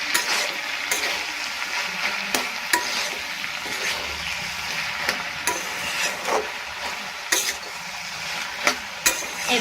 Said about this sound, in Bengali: ভালো করে আমি আরেকবার নাড়াচাড়া করে নিচ্ছি।